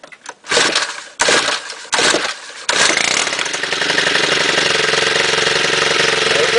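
Stihl chainsaws being cold started: several sharp pull-cord bursts, then the two-stroke engine catches and runs on as a loud, rough, steady buzz close by.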